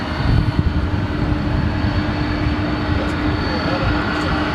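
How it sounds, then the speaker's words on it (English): A McDonnell Douglas MD-11 jet airliner at Dallas/Fort Worth International Airport gives off a loud, steady roar of engine noise with broad rumble. It holds constant across the stretch, and voices are faintly present. "Direct head-on shot of an MD-11."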